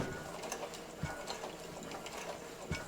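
Sewing machine stitching a T-shirt hem with a twin needle, a steady close mechanical whir with faint rhythmic ticking throughout and a few slightly louder knocks.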